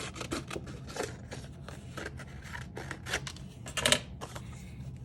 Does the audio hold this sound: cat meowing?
no